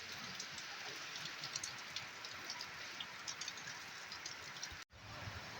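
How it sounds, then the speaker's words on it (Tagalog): Heavy rain pattering on a corrugated tin roof, a dense, steady hiss of drops with scattered sharper taps, fairly quiet, with one brief dropout near the end and no voices. "Naririnig nyo yung patak ng ulan sa yero."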